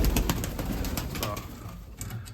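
Mykolaiv breed pigeons coo softly at a dovecote in Tsarychanka, repeated low calls over a steady outdoor background.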